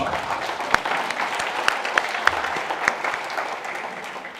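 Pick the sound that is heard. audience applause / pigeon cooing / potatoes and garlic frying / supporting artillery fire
audience applause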